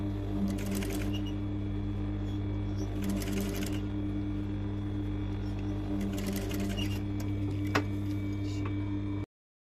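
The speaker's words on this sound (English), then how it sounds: "using a zipper foot on your sewing machine, stitch as close as possible to the teeth to secure the zipper" A sewing machine with a zipper foot hums steadily, stitching a zipper onto a dress, with short bursts of rapid stitching and a low motor drone throughout, close by and moderately loud.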